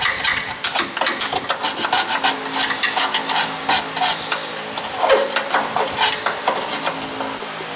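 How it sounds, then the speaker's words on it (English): Steady rasping and scraping on a 1974 Pontiac Ventura car frame as inch-thick gunk packed with rocks is cleared off, continuous and close with irregular gritty strokes and no talking. "I'm trying to get this frame cleaned up, and there's literally like gunk buildup 1 inch thick"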